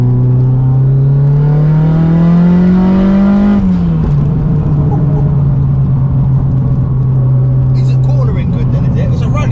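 A 630 bhp Mitsubishi Evo 9 accelerates hard, its engine note climbing steadily through a gear before dropping at the shift and holding a loud drone, heard close from inside the car.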